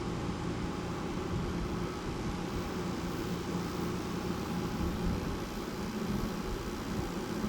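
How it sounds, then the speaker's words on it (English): A GE 5,050 BTU window air conditioner from 2017 running on low cool, its compressor producing a steady, even hum and broadband airflow rush that holds unchanged throughout, with no talking. "Let's go to low cool, shall we? Compressor actually started."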